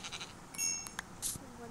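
Minecraft sheep give a few short, fairly faint digital bleats in quick succession amid game sound effects and soft background noise.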